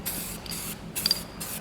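Bursts of spray paint hissing from an aerosol can laying red paint onto a Ford Econoline van panel, several short sprays separated by brief pauses, close and fairly quiet.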